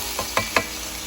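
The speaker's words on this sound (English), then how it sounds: "So frying the chicken up right now." Chicken steak meat fries in a pan with a soft sizzle, broken by three quick scraping stirs in close succession, near and moderately loud with no talking.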